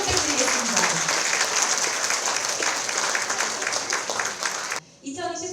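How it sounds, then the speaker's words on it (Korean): Audience applause fills a Gender Equality Week ceremony, loud and steady dense clapping for nearly five seconds before cutting off abruptly, followed by a brief tail of quieter sound. "박수 한번"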